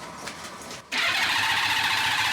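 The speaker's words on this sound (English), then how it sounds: "Oh, listen to her crank." An engine cranks with a whirring starter, pauses briefly, then a louder steady rasping hiss and churn takes over.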